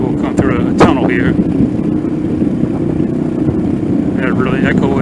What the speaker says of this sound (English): Hear what the exhaust sounds like. We'll come through a tunnel here.